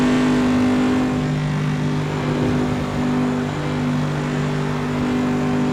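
A Holden A9X from 1976, driven around Bathurst's Mount Panorama in Assetto Corsa, holds a steady, loud engine drone near 6,000 rpm with a strong sustained tone and no talking.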